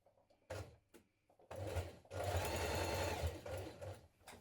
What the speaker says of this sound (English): Top stitch your pocket flaps.